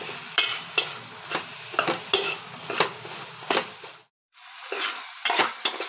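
Ridge gourd curry with chili powder is stirred in a frying pan: rhythmic spatula scrapes, about two per second, over a gentle sizzle, close and clear, with a brief silent gap before stirring resumes. No speech.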